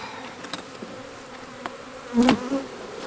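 Honeybees buzzing in an opened Apimaye hive, a dense steady hum close by with a louder burst as bees swirl up near the end.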